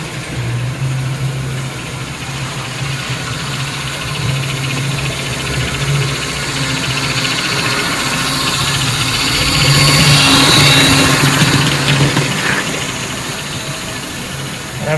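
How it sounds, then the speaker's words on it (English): A model train locomotive at raised throttle runs with a steady motor hum, joined by a higher secondary whine from the smoke unit and tender motor running full bore, close and continuous with no talk. "the secondary whine is actually the smoke and tinder motor. So the motor in the tender, and it is running full bore."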